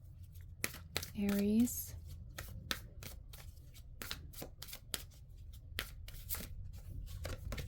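Tarot cards are shuffled in a series of sharp, crisp riffles and taps spread across several seconds, with a brief voice speaking quietly among them.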